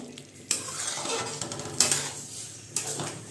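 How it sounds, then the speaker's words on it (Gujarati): A spoon scrapes and stirs crumbled millet flatbread (Kathiyawadi vagharelo rotlo) in a pan with a few clinks against the metal, over a steady soft bubbling or sizzle. "ફરીથી આપણે સરસ હલાવી લઈશું"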